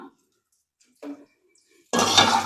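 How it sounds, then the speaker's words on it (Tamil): Sesame seeds are dry-roasted and stirred in a pan for a spice powder: two light utensil clinks against the pan, then a sudden close burst of dry rustling and scraping as the seeds are stirred. "இது கொஞ்சம் நல்லா சட சடன்னு பொரிய தள்ளி வறுத்துடலாம்"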